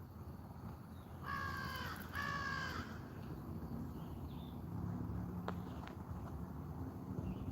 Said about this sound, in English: Hear that crow?